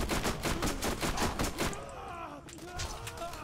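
Rapid gunfire in the Borderlands shooter, a dense burst of repeated shots for the first half, then scattered hits and fading rattle with game effects behind.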